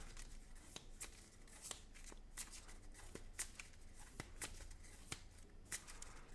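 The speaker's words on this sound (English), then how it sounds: "then we shuffle our deck, just like we did" A deck of Marvel Champions cards is shuffled close by, a quick series of crisp riffling snaps and flicks repeating at an uneven rhythm, fairly quiet.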